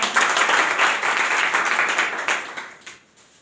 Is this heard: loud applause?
yes